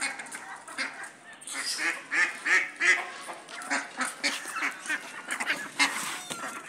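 A duck attacking among chickens in a yard, with loud, repeated nasal honking quacks in quick irregular bursts close by, overlapping one another throughout.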